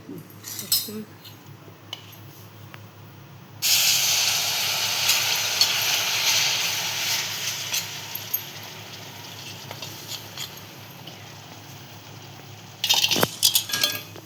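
Jaggery dropped into flour roasting in a pan for homemade banana barfi, a loud broad sizzle that starts suddenly and holds steady, with faint scraping and clinks of a utensil before and after.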